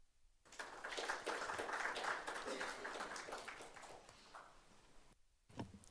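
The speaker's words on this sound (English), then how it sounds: "It is tradition to clap after, so we already did that." Applause from a student senate chamber right after a vote passes, a dense wash of many hands clapping at steady volume for about five seconds, then dropping away to near silence with one brief final burst.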